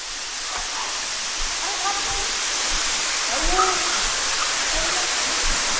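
A waterfall in the Philippines roars as a steady, dense rush of falling water close by, with faint voices of people underneath.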